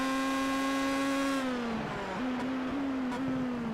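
Race car engine in a racing video game, Boremula 1 at Zolder's Bolderberg hairpin, whining steadily then dropping its revs sharply while braking into the hairpin, with stuttering downshifts and a low settling drone, loud and close with no voices.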